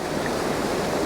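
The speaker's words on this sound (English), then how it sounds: "the water that's cascading down the gorge here" Water cascades down rocks in Mossman Gorge, Queensland, a steady, broad rushing wash heard close and continuous with no voices.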